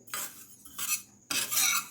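A utensil stirs sesame seeds dry-roasting in a pan over low gas, making three gritty, rustling scrapes in a quick sweeping rhythm, close and alone with no voices.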